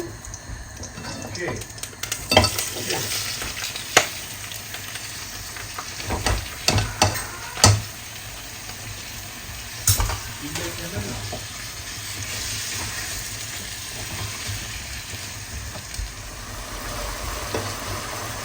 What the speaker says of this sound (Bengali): আদা রসুন পেস্ট দারচিনি এলাচ তেজপাতা দিয়েছি এটা আলাদাভাবে আমি একটু ভেজে নিব